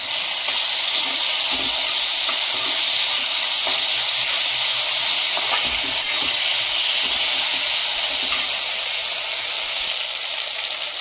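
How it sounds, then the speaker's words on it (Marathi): Potatoes sauté in a pan with a little ginger-garlic paste, giving a steady, loud sizzling hiss that holds evenly throughout, with faint scraping and no voices. "बटाटा चांगला आता परतून घेऊ आपण एक अगदी थोडं अर्धा चमचा आलं लसूण घालायचं"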